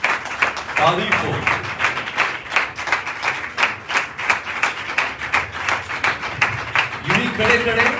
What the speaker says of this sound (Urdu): آئے زوردار تالیوں سے خدا ان کی ستائش کریں